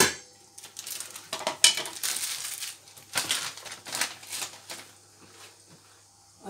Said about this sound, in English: What I'm going to do is just place the spinach in the pot and cover it.